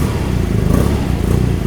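A motorcycle on carbon fiber wheels revving loudly up close, a dense, continuous engine roar with slight surges in pitch.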